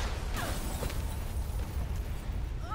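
A muffled, rumbling blast with crackling bursts and a few pops, continuous and fairly loud, an explosion in Resident Evil 2 Remake, with no voices.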